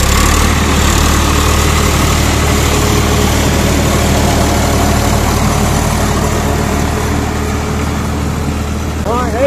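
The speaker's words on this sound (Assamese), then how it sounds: "এয়া ট্ৰেক্টৰ মাৰি গৈ আছে" A tractor engine runs in a field beside a fishing spot, its low, steady rumble close and continuous under occasional talk.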